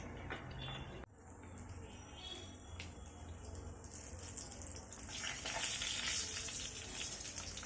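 Koi fish frying in a pan, turned to brown the other side: a dense, close sizzle and crackle that flares after a brief clatter and grows louder and brighter toward the end.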